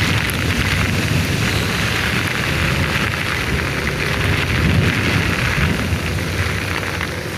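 Dense, steady typhoon rain pours down without a break, a loud wide hiss with a low rumble underneath.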